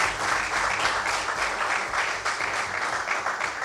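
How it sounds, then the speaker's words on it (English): A crowd at a draft night event applauds steadily, a dense, even wash of clapping that lasts the whole stretch without letting up. "let's give him another round of applause"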